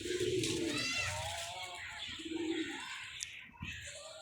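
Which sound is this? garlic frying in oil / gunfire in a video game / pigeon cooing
pigeon cooing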